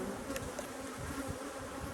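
A dense swarm of honey bees hums steadily at an open hive, the buzzing close and continuous throughout, with no voices.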